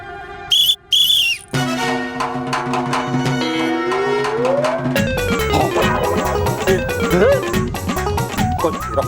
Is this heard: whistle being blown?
yes